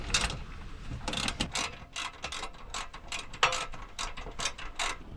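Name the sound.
ratchet snugging up oil pan bolts on 2015 GMC Yukon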